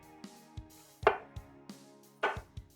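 A knife chops through the ends of peeled potatoes on a cutting board, about eight sharp, close cuts at an uneven pace with no talk.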